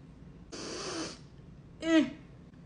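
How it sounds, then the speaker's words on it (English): Someone takes a quick sniff of a Jeffree Star cosmetics product, close and soft: a faint breathy exhale, then a short, sharper intake through the nose. "let's give it a little sniff test."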